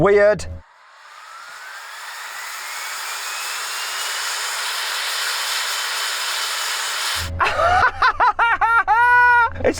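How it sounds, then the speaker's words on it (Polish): An electric car's powerful cooling fan whirs steadily and loud for several seconds, slowly rising in pitch, bracketed by brief bursts of talking and laughter. "Wiem, że możesz podkręcić wentylator w swoim samochodzie"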